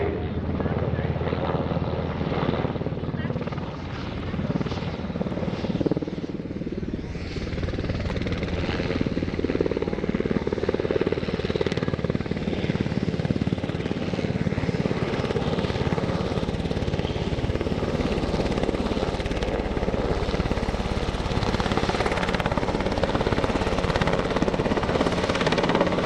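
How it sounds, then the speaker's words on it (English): A military helicopter at a Navy airshow fleet air power demonstration comes around for a precision landing, its rotor and turbine roar loud and steady throughout, with a commentator's voice talking faintly over it. "Watch as they bring the helicopter around for a precision landing."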